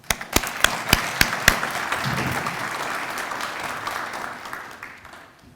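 Audience applause welcoming a councilman at a city's State of the City address: a few sharp early claps swell into steady, dense clapping from a crowd, holding for several seconds before tapering off.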